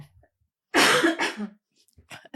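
A single loud cough bursts out, followed by a shorter second cough, then quiet breathing and faint small noises.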